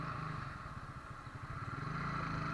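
A motorcycle engine idles and revs close by, a steady low throbbing putter with rhythmic firing pulses that swell slightly toward the end, heard alone without talk.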